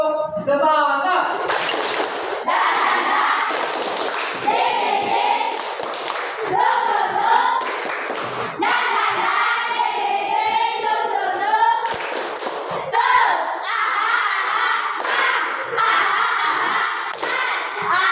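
A class of schoolchildren performs the 'tepuk semangat' spirit clap, a rhythmic chant-and-clap routine with repeated bursts of hand claps and thumps mixed with many voices shouting along, loud and close in a classroom.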